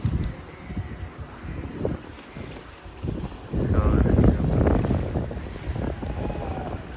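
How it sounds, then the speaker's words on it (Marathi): A boat runs along the sea off the Konkan coast near Malvan, with a steady engine drone under gusting wind buffeting the microphone and the wash of water, while voices murmur faintly in the background. "आणि ही बोट चालली आहे बघा"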